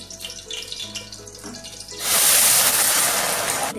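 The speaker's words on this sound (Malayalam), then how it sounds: "ഇനി ഈ തിളച്ച വെള്ളം നമുക്ക് അതിലോട്ട് മാറ്റാം." Boiling water poured into a cooking pot that holds melted ghee, for a Thalassery-style king fish dum biriyani; after quiet kitchen sounds, a loud, steady rushing splash of liquid starts midway and continues to the end.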